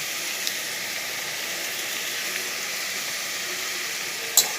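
Vegetables frying with salt, turmeric and pepper in a pan for an egg curry give off a steady, even sizzle and hiss throughout, with one brief scrape near the end and no talking.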